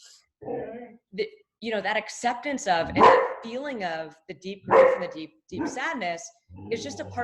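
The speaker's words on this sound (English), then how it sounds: "sorry, that's my dog clearly wanting to be involved." Dog barking in a home interrupting someone talking; a few sharp barks blend into and punctuate her continuous speech, close and moderately loud.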